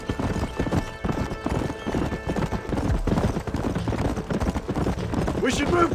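A horse gallops in Red Dead Redemption with rapid, rhythmic hoofbeats that continue throughout, and a whinny rises near the end.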